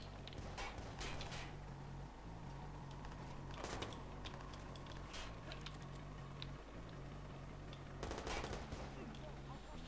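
Gunfire in the video game Watch Dogs comes as quiet repeated bursts of rapid shots over a steady mechanical hum, with sharper volleys near the start and end.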